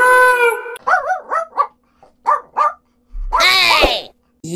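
A cartoon dog in a children's alphabet rhyme howls, then gives a run of short rising yips and barks, with a final loud howl near the end, all close and clear.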